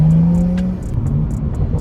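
A BMW F30 sedan with a modified muffler accelerates toward a highway, its engine note climbing loud and close in a smooth rising drone, then settling into a steady throaty hum with road noise.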